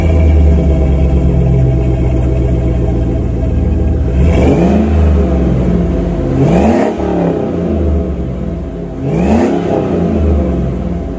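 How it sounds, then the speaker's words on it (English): A 2003 Chevy SSR convertible pickup with dual exhaust idles with a deep, steady rumble, then is revved three times at even intervals. Each blip swells and falls back to idle, up close and loud. "Here's what the exhaust sounds like right here."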